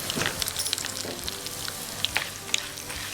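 Cashews, black gram lentils and a little chana dal frying in ghee, giving a steady close sizzle with crackling pops and occasional stirring scrapes.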